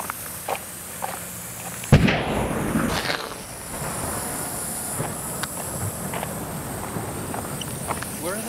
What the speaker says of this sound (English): Explosions. Pressure blasts.